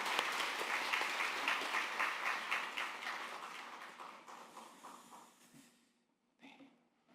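Church congregation applauding to welcome a missionary at a Sunday service: sustained clapping from many hands that gradually thins and fades out, followed by a brief faint patter.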